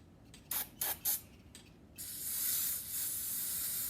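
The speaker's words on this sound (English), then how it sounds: "we're going to take our carb, as I said, our cleaner. I'm going to just give it a quick squirt first." Carburetor cleaner sprays from an aerosol can onto a carburetor: three short hissing bursts, then one long continuous spray, close and fairly loud.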